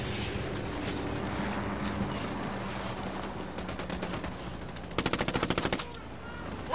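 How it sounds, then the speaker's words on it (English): Gunfire in Ghost Recon Wildlands: scattered shots over a busy background, then a tight, loud automatic burst near the end, heard mostly without talk. "I'm opening fire."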